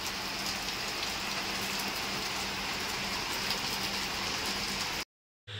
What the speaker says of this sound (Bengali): এত বৃষ্টি চলে এলো, মানে প্রচুর বৃষ্টি পড়ছে এখন